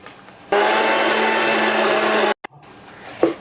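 A mixer grinder crushing garlic for bhringraj pickle whirs loudly and steadily for about two seconds, then stops abruptly, followed by brief faint clatter.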